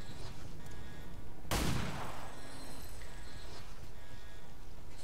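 Single sharp pistol gunshot in the XCOM 2 video game, loud and abrupt with a short decaying tail, over steady low background ambience.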